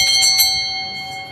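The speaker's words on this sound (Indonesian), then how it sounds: "Lonceng itu bunyinya nggak pernah sama." A small hand bell rings three quick bright strikes that ring on in a shimmering tone and fade, close and loud, with no talking.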